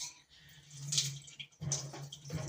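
A can is rinsed out with water into a pot of beef and red peas soup, with a faint trickle and splash of pouring and dripping water, low and close, with no voices heard.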